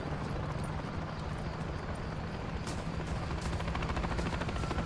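Military helicopters in Call of Duty Modern Warfare 3, a steady close rotor thump with a low droning hum running evenly throughout, with faint distant pops in the background.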